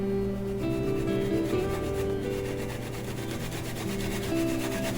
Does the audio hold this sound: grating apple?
yes